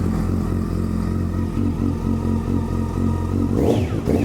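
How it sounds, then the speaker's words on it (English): Yamaha FZ1 sport motorcycle engine running with a steady, loud low rumble close by, then a short rising rev near the end; no talking. "Let's go take this one for a spin right now."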